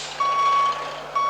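Reversing beeps from a bus in Public Transport Simulator, two clear electronic tones repeating at a steady interval, loud and alone over a faint low hum.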